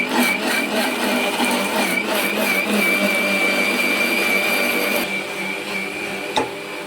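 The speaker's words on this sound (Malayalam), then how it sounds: "ഞാനിതൊന്ന് അരച്ചെടുക്കട്ടെ കേട്ടോ." A mixer grinder whirs loudly and continuously while grinding a roasted coconut spice mix, its motor note dropping slightly after a few seconds before running on, with a short clunk near the end.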